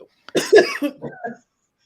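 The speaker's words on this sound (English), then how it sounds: "She's going to start coughing on purpose." A person coughs a few times in quick succession, close and moderately loud, followed by a short throat-clearing sound and then silence.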